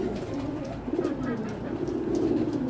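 Low throaty cooing of racing pigeons in a loft, a continuous close warbling murmur from a few birds with faint rustles.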